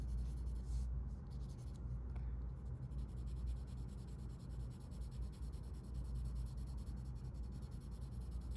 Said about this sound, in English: it's just all about controlling the pressure of your pencil